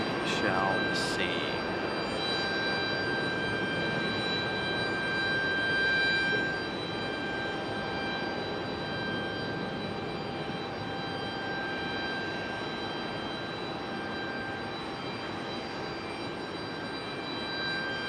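A JetBlue jet airliner at Raleigh-Durham airport gives off a steady, moderately distant engine roar with a high whine, and a brief sharp sound near the start.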